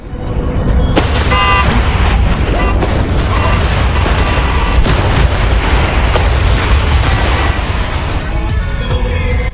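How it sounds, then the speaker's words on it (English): A loud, dense clamor of trucks in the game Clustertruck, with honking horns, screeching tires and crashing impacts piling up nonstop. "A clusterfuck of trucks beeping ridiculously, driving around with their loud screeching of the tires and crashing."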